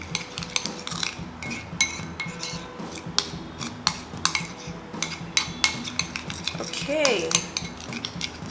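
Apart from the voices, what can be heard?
mixing face mask with milk in a bowl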